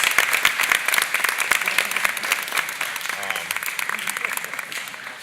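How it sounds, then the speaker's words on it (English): An audience at a school board of education meeting breaks into sustained applause, many hands clapping at once in a dense, lively burst that gradually thins out. "she should also get a round of applause"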